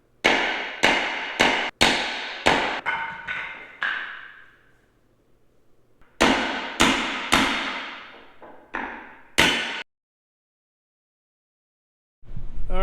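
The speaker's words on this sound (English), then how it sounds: "gently pound on this to just tap it out of the barrel." Hammer blows on a wood block used to knock the wheel centers out of the barrels of Datsun 510 wagon wheels: two bursts of sharp ringing strikes, about five or six each, evenly paced, close and loud, with silence between.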